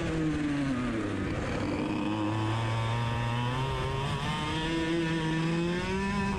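A racing kart engine on a dry track buzzes continuously and loudly, its pitch rising and dipping as the throttle is rolled on and off, with no voices.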